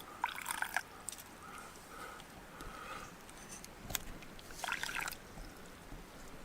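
Water trickling and dripping slowly through a wilderness water filter, with soft irregular splashes and gurgles, quiet and close, with no talk.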